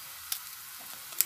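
Homemade potato chips fry in hot oil with a soft, steady sizzle, broken by a couple of sharp crackles.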